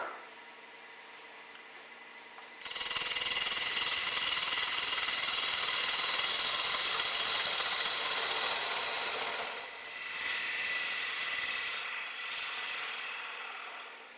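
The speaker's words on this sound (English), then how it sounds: "True the blank to a cylinder using a bowl gouge." A bowl gouge cuts against a spinning wood blank on a lathe, truing it to a cylinder. The close, steady rasping hiss begins abruptly after a quiet lathe hum and dips briefly near the end.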